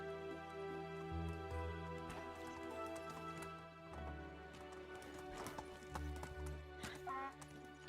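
Horse hooves clip-clop steadily while riding in the video game Medieval Dynasty, a continuous rhythmic patter under steady background music and game ambience.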